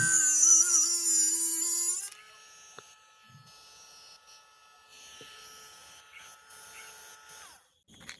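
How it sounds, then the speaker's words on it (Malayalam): A rotary tool blade whines at high pitch as it cuts through a hard metal screw, then the motor winds down and the shop goes quiet apart from faint handling clicks. "സ്റ്റീല്, അലുമിനിയം, ഏത് വസ്തുവും മെറ്റലായിട്ടുള്ള എന്ത് വസ്തുവും നമുക്ക് ഈ ബ്ലേഡ് ഉപയോഗിച്ച് കട്ട് ചെയ്തെടുക്കാവുന്നതാണ്."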